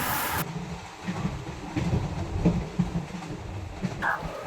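A passenger train runs on rails through Kerala near Punalur, producing a steady, close rumble with a faint rhythmic clatter of wheels over the track joints throughout, and no one speaks.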